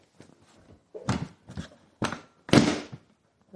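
The seat of a 1983 Yamaha Virago motorcycle clunks into place with several short, dull thumps and knocks close by, separated by brief quiet gaps.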